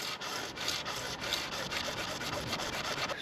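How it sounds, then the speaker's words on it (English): A hacksaw cuts through a plastic gutter downpipe during shed gutter installation, its rapid, even back-and-forth rasping strokes continuing close and steady with no speech. "Hacksaw again."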